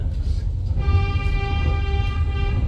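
An old diesel locomotive train rolls on rails with a low rumbling clatter, and a sustained horn-like tone sounds over the steady running noise.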